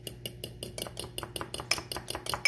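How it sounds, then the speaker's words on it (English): An egg is beaten in a small cup for gluten-free sugar cookie batter, a fork clicking against the cup in a quick, steady rhythm of about a dozen clinks, close and fairly quiet, with no talking. "So you mix the white and the yolk together real thoroughly."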